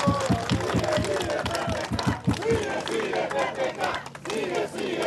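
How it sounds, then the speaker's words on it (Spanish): A large outdoor crowd in Puno greets Peruvian President Pedro Pablo Kuczynski with clapping and rhythmic shouted chanting, loud and close, the voices rising and falling in repeated bursts over the applause. "El aplauso para él."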